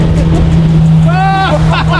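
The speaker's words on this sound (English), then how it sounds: "The G-Wagon's hilarious because it has so much power, but it handles like absolute trash." Mercedes G-Wagon SUV driving up toward a house with a front lawn, a loud steady engine drone with a rising whine near the end, heard under people talking.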